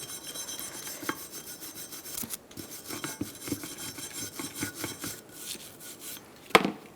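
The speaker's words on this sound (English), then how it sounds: "Now you can use a wire brush and get the rest clean and rust free" Wire brush scrubbing rust off Ford Focus front brake parts, quiet irregular scraping strokes in short bursts, with a sharper clank near the end.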